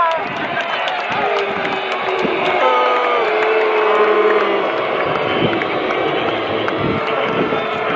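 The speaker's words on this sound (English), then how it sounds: "The crowd is still booing the Astros every time they come to the plate." Large baseball crowd booing the Houston Astros batters at a Mets spring training game, a loud sustained roar of voices mixed with shouts and yells, close and continuous with talk among nearby fans.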